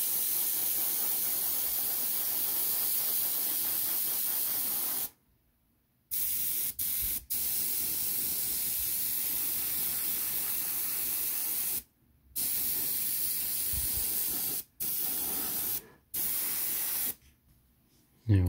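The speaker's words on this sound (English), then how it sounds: "give these a coat of matte varnish, a Vallejo acrylic from the airbrush" Airbrush spraying Vallejo acrylic matte varnish onto Tiger II tank model parts, a close, steady hiss in repeated bursts of several seconds broken by short silent gaps as the trigger releases.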